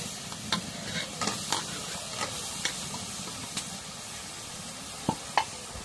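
Soybean chunks stirred into sizzling fried spice paste in a pan make a steady hiss of frying, broken by repeated scraping and tapping strokes of a spoon against the pan at an uneven rhythm.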